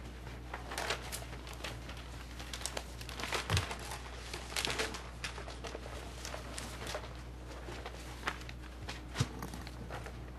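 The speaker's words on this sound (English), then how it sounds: "We're going to shuffle some papers and be right with you." Papers shuffled and crinkled at a planning commission meeting table, a steady run of soft rustles and crackles with a low hum underneath, fairly quiet and with no talk.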